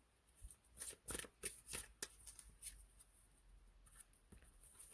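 Playing cards shuffled and drawn by hand for a tarot-style reading, a run of quick crisp riffling snaps and flicks up close, then lighter slides and taps, with no talking.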